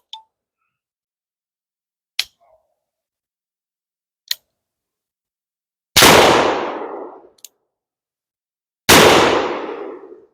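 A .44 black powder revolver fired with paper cartridges outdoors: two loud, booming shots a few seconds apart, each trailing a long rumbling decay, preceded by several sharp metallic clicks of hammer and cylinder between quiet gaps.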